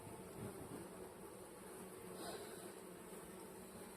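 Honeybees buzz steadily inside an opened beehive during an inspection, a soft, continuous drone at low volume with no pauses.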